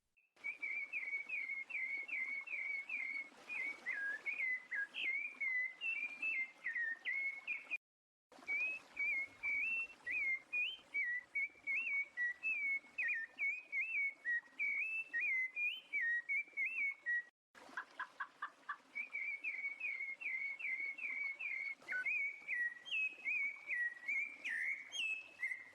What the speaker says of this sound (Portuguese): Sabiá laranjeira.